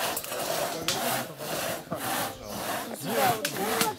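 Wood being cut with a hand saw in the morning at a children's camp, steady back-and-forth rasping strokes in a regular rhythm, fairly close.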